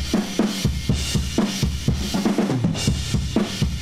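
Drum kit captured by a Neumann TLM-103 facing a wall inside a baffle, giving a loud, dense room sound of steady kick and snare hits with washing cymbals, heavily compressed and crushed.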